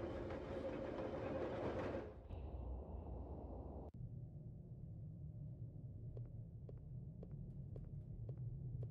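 A train rolls along its tracks inside a horror video game, a steady low rumble with faint regular clicks of the wheels, loud and continuous throughout with no voices.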